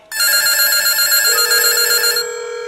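A loud electronic telephone bell rings continuously for about two seconds, a bright buzzing trill that cuts off and leaves a steady lower tone behind.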